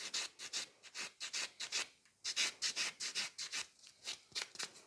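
Fiber gel nail being filed with quick straight strokes, a close, soft rasping in a steady rhythm of short bursts with one brief pause midway, no voices.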